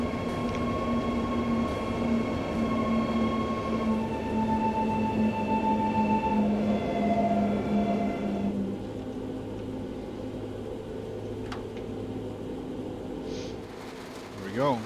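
An unmanned train runs on the Main-Spessart-Bahn in Train Simulator 3 with a steady rumble and humming motor tones. The tones step and shift, then the sound drops to a quieter roll with a brief squeal near the end.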